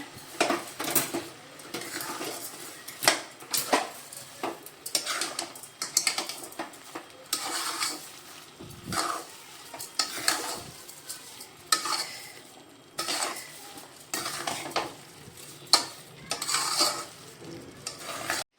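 Carrot halwa with sugar being stirred and mixed in a pan, a steady run of spoon scrapes and clinks against the metal with a soft sizzle beneath, repeating in close, fairly loud bursts throughout, with no talking.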